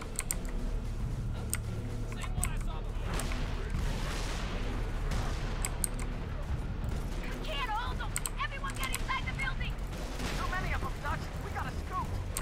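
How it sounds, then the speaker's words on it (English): Minigun turret in Halo 3 ODST co-op fires in dense, continuous bursts, with rapid sharp cracks over a roaring battle bed, and voices come and go beneath the gunfire. "No, it's just a minigun."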